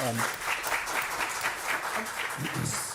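Audience applause at a city council meeting, a steady patter of clapping throughout, moderately loud, with a voice briefly heard over it near the end.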